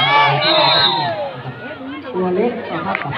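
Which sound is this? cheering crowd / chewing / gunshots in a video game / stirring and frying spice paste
cheering crowd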